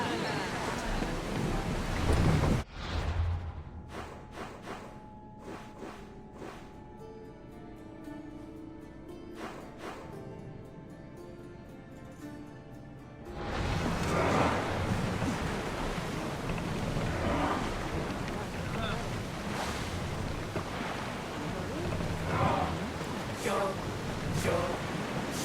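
A ship sails across open water in a video game, with steady rushing wind and surf that soften briefly in the middle before swelling back to a full, continuous wash.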